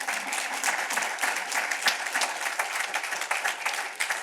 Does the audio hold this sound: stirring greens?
no